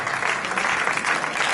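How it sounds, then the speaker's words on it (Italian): Steady applause from guests at a winter party in a restaurant-pizzeria with dancing, dense and continuous at close range with no clear breaks. "voglio un grande applauso"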